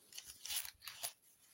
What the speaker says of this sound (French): je vais prendre les grands ciseaux